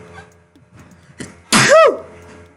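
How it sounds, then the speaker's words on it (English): One sharp, loud sneeze bursts out close by after a couple of faint sniffs and small noises, set in a horror game scene. "That was a sneeze."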